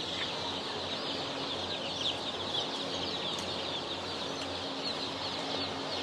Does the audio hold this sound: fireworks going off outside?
no